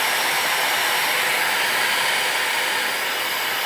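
Hair dryer blowing on a low setting while powered by an ENGYPAK 500W portable power station, a loud, steady, unbroken airy roar with no voices.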